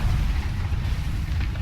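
Leshrac's Diabolic Edict explosions in the video game Dota 2, a dense continuous rumble of rapid low blasts, loud and unbroken with no pauses.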